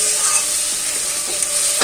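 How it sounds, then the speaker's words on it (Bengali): Masala spices fry and sizzle steadily in hot oil in a home kitchen pan, a close, continuous crackling hiss with faint stirring, no voices. "দেখো আমার মশলা কিন্তু এদিকে প্রায় কষে গেছে"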